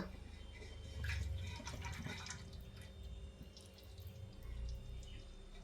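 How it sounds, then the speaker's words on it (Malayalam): Faint, thick jaggery syrup pours and trickles steadily, with a soft low gurgle and a few drips in a quiet room. "നമ്മള് ശർക്കര ഒഴിക്കാൻ പോവാ"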